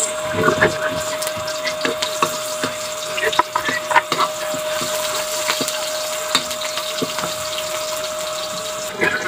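Garlic and onion sizzle as they sauté in a pan, a steady crackling fry with frequent sharp pops and spatters, close up and continuous, with occasional stirring scrapes and a faint whine running underneath.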